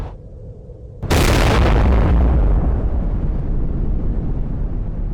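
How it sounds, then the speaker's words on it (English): A bomb explodes far above a city: after a moment of quiet, a sudden loud blast hits and then rolls into a long, heavy rumble that stays strong to the end. "The bomb exploded far above the surface of the city"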